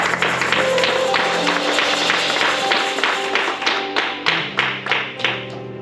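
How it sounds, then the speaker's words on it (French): Church congregation applauding the worship team, a steady wash of clapping over sustained music that thins into a few distinct, rhythmic claps near the end. "J'aimerais qu'on acclame encore pour cette équipe."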